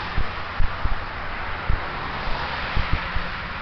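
Heavy wind blows across the microphone in uneven low buffeting thumps and gusts over a constant rushing roar, fairly loud and close, with no talking.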